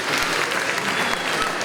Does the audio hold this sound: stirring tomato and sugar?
no